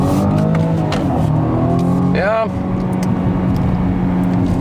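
BMW M135i F40 engine pulling hard while driving in gear, a loud, steady close-up roar with a brief pitch sweep as revs change midway, while someone speaks briefly.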